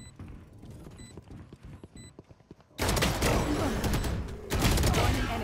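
Valorant gunfire. Quieter, scattered clicks and shots give way to a sudden loud, sustained burst of rapid fire and action noise that holds close and dense to the end.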